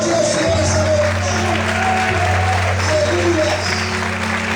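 A church congregation applauding, a loud sustained wash of clapping that fills the room, with voices mixed in among the hands.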